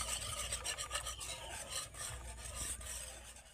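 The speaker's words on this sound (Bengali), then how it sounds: "এবার আমি খুব ভালো করে জলের সাথে দুধটাকে এইভাবে নেড়ে নেড়ে মিশিয়ে নেব" Milk being stirred with water in a pan, a steady close rasping scrape of a utensil moving round and round the pan bottom.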